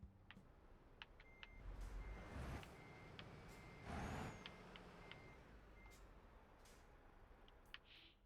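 Truck in Euro Truck Simulator 2 backing up, steady rhythmic reversing beeps over a low engine rumble with a couple of brief air-brake hisses, fairly faint, no voices.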